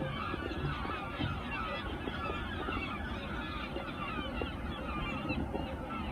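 Many birds hovering over an allotment in the evening call over one another in a constant noisy chorus of gull-like honks and squawks, fairly close, with no pauses.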